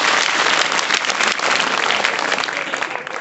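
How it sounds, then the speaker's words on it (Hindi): Loud, sustained applause from a classroom-style audience in a talk about the solar system, a dense continuous patter of many hands clapping that holds steady and only slightly fades toward the end. "इसके लिए जोरदार ताली बजाइए"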